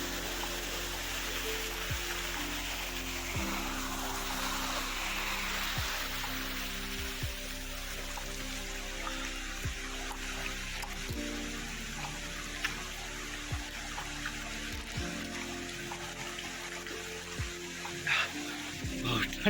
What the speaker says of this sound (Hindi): ये भयंकर वाटरफॉल, नीचे पानी जमा हुआ है भाई अभी भी